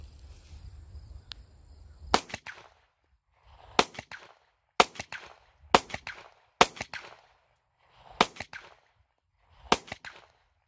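Taurus GX4XL 9mm pistol fired at an outdoor range, seven sharp, loud gunshots spaced roughly a second apart, each with a short echoing tail, with no talking.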